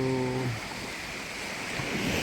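Strong surf washing onto a beach near the Gold Coast at Morib, a steady broadband roar of breaking waves with wind across the microphone, close and loud throughout.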